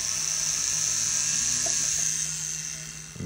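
Small rotary burr drilling a tiny seat hole for setting an unusually cut diamond, a steady high-pitched whine that holds constant and close throughout, easing off slightly near the end.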